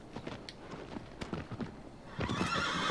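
A horse whinnies within Shadow of the Colossus, a clear neigh set against hoof clip-clop and busy game ambience that grows louder toward the end.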